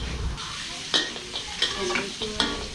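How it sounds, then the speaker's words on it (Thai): Vegetables being stir-fried in a hot wok, loud close sizzling with repeated scraping and tossing strokes of a spatula every half second or so, no voices. "ผักก็ลงเลย เราจะผัดให้มันสลบนะครับ"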